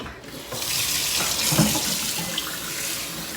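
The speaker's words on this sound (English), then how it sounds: "I'm going to go ahead and rinse this off one more time" Chocolate mint leaves are rinsed under a running kitchen sink tap, a steady close hiss of flowing water splashing over the leaves throughout, with no talking.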